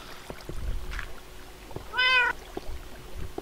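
One clear, brief meow from a Minecraft cat sounds midway, standing out over faint in-game clicks and soft background noise, with no talking.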